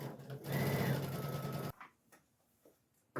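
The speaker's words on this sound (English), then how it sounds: "I'm going to sew all the way down" A sewing machine runs as it stitches down the seam of a pillowcase, giving a close, fast mechanical whir for about a second and a half before stopping abruptly, followed by faint handling clicks.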